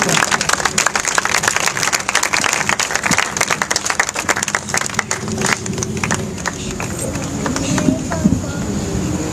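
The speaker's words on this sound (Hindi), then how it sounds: "हम तालियों के साथ खुदा के कलाम को और खुदा के खादम को वेलकम कहेंगे।" A church congregation applauds to welcome a pastor, steady dense clapping throughout with voices mixed in over it.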